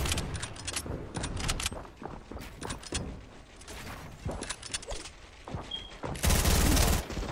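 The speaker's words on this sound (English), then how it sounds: "I'm sniping at him with the hunting rifle." Hunting rifle sniping in Fortnite Battle Royale, a duos match, with repeated sharp rifle cracks among busy game noise and clatter, and a loud, dense burst of firing near the end.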